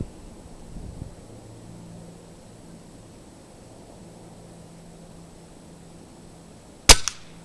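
A Crosman Nitro Venom gas-piston .177 air rifle fires a single sharp shot at a 30-yard target, loud and abrupt after a quiet stretch, with a faint follow-up tick.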